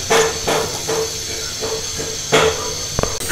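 Jackfruit seed paste frying in ghee with sugar, a soft continuous hiss broken by repeated knocking taps of a spatula against the pan.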